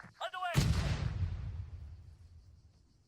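In the Arma 3 Antistasi video game, a single heavy artillery blast lands close by, a sharp boom that fades into a long rumbling decay. A brief voice is heard just before the hit.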